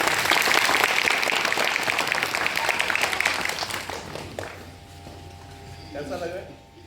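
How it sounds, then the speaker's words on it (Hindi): Loud sustained clapping from a school theatre audience, strongest at the start and fading over several seconds, then giving way to a voice speaking. "सबके लिए जोरदार ताली"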